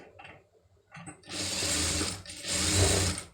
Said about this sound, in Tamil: ஒட்டு தையல் போட்டுருங்க